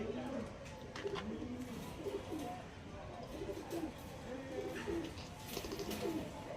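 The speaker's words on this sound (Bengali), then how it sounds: "এটা মাদা পায়রা" Several pigeons coo in a steady, overlapping series of soft throaty calls, close and moderately loud, with faint background noise.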